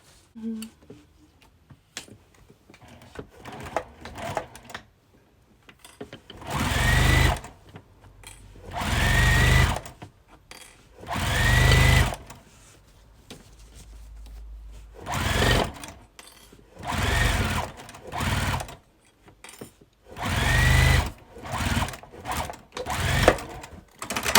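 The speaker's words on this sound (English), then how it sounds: "So each lining, right sides together, and just sew straight across there." Sewing machine stitching straight seams across a quilted bag's lining, running in several close, loud bursts separated by short pauses and quiet handling sounds.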